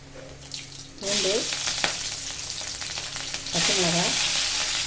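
Lentils (dal) fry in hot oil until reddish, giving a loud, steady crackling sizzle that swells partway through. A faint voice can be heard briefly twice in the background.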